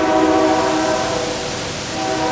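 A passing train sounds a sustained, loud horn with steady layered tones, close by and continuous throughout, with rail rumble beneath.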